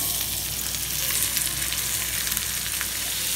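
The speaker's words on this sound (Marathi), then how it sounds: "कांदा चांगला नरम पडले पडेपर्यंत आपण फ्राय करून घ्यायचा आहे" Chopped onion frying in a little hot oil in a kadai, giving a steady, close, dense sizzle that holds evenly throughout, with no voices.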